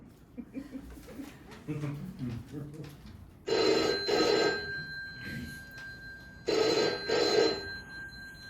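A telephone bell rings in two pairs of loud, bright bursts with a steady tone between them, breaking in after someone speaks, with voices around and between the rings.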